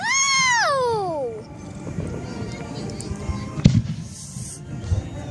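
Fireworks pop and crackle in the distance, with sharp bangs over a steady crowd murmur, after a loud rising-and-falling whistle at the start.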